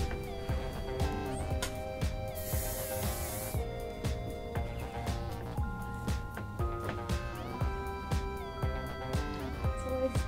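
A brief hiss of hairspray being sprayed onto a client's hair during a curling tong styling session, a bright burst lasting about a second amid steady background music and light handling noise.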